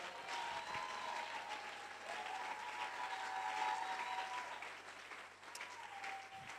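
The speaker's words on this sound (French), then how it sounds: "Est-ce qu'on peut ajouter des acclamations à cet Amen-là?" A church congregation at a French-language sermon breaks into sustained applause and acclamations, a steady wash of clapping with a few cheering voices mixed in, moderately loud and continuous for the whole stretch.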